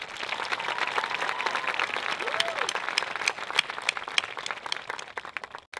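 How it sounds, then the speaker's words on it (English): A high school graduation audience applauds the class of 2018 in a dense, sustained wash of clapping, with a few louder claps standing out before it fades at the end. "Class of 2018, let's have a huge round of applause for all those in the audience here supporting us tonight."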